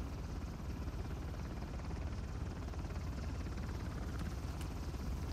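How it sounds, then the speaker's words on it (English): A helicopter in the video game Uncharted: The Lost Legacy flies close overhead, a loud continuous rotor throb and engine roar holding steady throughout with no voices. "the helicopter, yeah, it's coming just round"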